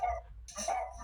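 Dogs barking indoors in the background, two quick yaps about half a second apart, faint and close-miked through a voice call.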